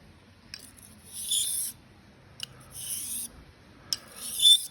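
Straight razor blade, a 6/8 Hamburg Ring, drawn across a Washita oilstone while setting a bevel: three separate soft raspy honing strokes, close and fairly quiet, with short pauses between them and no talk.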